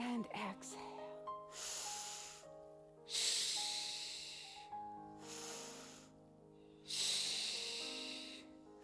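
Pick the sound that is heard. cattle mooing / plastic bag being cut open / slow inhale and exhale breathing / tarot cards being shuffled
slow inhale and exhale breathing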